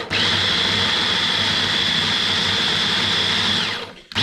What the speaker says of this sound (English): I'm going to grind this into a puree.